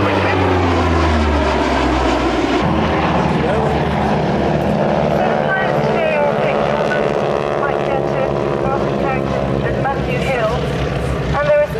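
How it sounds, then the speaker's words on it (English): A large aircraft with four big Allison turboprop engines drones loudly overhead at the RAF Fairford air show, its steady propeller roar shifting slightly in pitch as it passes. "They've got 6 engines, but in fact they do have only 4 of the big Allison turboprops."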